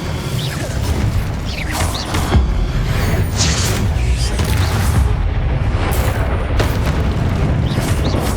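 An Incendio fire spell cast in Hogwarts Legacy, with a loud, continuous roaring whoosh broken by several sharp bursts and rumbling booms throughout.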